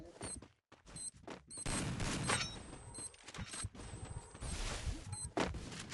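Rapid bursts of gunfire crackle almost continuously in a Free Fire battle royale match, loud and close, with brief gaps between volleys.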